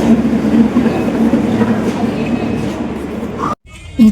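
A train at a railway station, a loud continuous rumbling roar of wagons rolling past with a low steady hum, ending in a brief cutoff.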